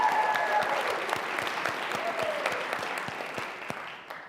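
Audience at a college business pitch competition clapping steadily, the applause gradually fading, with a voice speaking faintly underneath.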